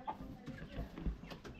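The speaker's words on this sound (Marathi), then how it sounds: "हा बघ कोंबडा." Rooster in a Kokan village farmyard giving soft, faint clucks in short bursts at close range amid quiet rural background.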